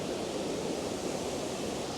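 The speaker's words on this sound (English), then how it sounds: "The waterfall is going strong today." A waterfall running hard after overnight rain gives a steady, loud broadband rush of water that fills the clip evenly with no pauses.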